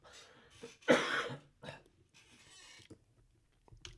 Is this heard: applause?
no